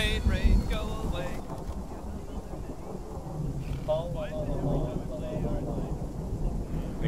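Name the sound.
rain and thunder from a video game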